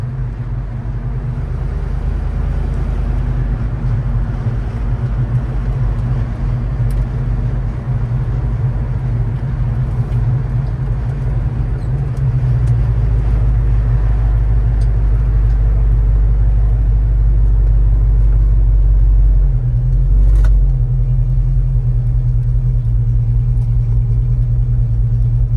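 The engine of a 1968 Chevrolet Chevelle Malibu rumbles loud and low from inside the car while driving, with its pitch and loudness building steadily as it accelerates, and no one talking.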